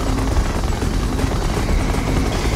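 Siege chopper helicopter from Red Alert 2 Yuri's Revenge, a loud continuous rotor chop and engine roar with a dense, steady texture, heard alone without voices.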